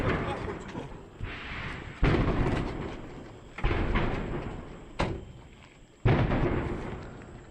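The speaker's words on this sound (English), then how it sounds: "now it seems that the explosions have gotten a little closer to them" Artillery explosions in the Ukraine war, a series of four or five heavy booms arriving every second or so, each with a sharp onset and a rumbling tail, fairly close.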